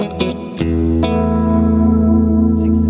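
Sustained guitar chords through a TWS 2864-S clean amp with reverb and compression ring out clean with reverb tails after a few picked strums, bright and close.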